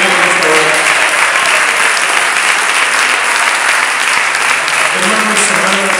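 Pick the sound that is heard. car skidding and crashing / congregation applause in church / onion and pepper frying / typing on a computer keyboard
congregation applause in church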